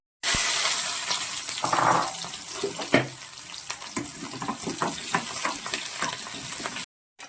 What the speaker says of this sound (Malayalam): ഇനി അതേ എണ്ണയിലേക്ക് തന്നെ നമുക്ക് ഉള്ളിയും കൂടി ഒന്ന് വഴറ്റിയെടുക്കാം